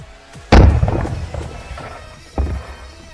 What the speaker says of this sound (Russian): при взрыве куб, конечно же, разорвало